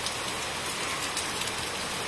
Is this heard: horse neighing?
no